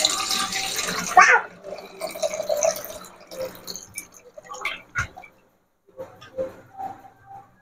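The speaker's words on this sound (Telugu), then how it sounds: "ఇలా 1-2 సార్లు వాష్ చేసుకోవాలి శుభ్రంగా చికెన్ ని" Raw chicken pieces rinsed by hand under running water in a kitchen, with bursts of splashing and sloshing that fade in and out, a short pause of near silence, then quieter trickling and drips.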